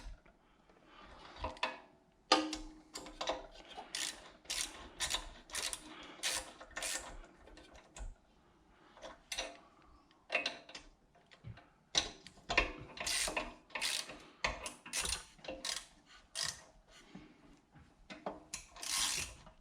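Bolts being tightened on a brass boiler of a Rancilio Silvia espresso machine, heard as close, irregular runs of metallic ratcheting clicks and tool taps with brief pauses in between.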